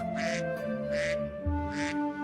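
A duck quacks three times in evenly spaced nasal calls over a steady droning background tone, fairly close and clear.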